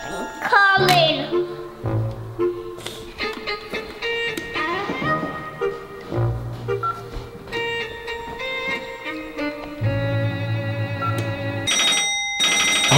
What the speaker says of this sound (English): I wasn't expecting a phone call.